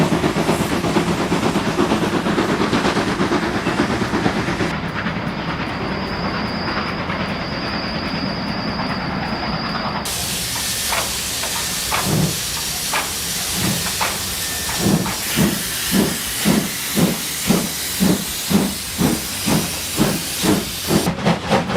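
Locomotive train running, a loud steady hiss and rumble that gives way to a rhythmic clatter of wheels over rail joints, growing more regular toward the end, with no voices.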